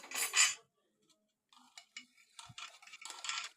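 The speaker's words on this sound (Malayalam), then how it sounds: "ഇനി നമുക്കിതിലേക്ക് വേവിച്ച് വെച്ചിരിക്കുന്ന കടല ഇതിലേക്ക് ഒഴിച്ചു കൊടുക്കാം" Boiled chickpeas poured into fried onion masala in a pan for a restaurant-style chickpea curry: a short wet, splashy pour, a pause, then faint clinks and scraping of a utensil against the pan.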